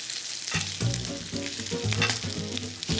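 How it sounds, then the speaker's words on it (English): Bacon strips sizzle and crackle steadily in a hot pan while the cook flips them to crisp, with brief scraping and handling sounds over a continuous loud fry, close up and no talking. "flip our bacon. Nice and crispy."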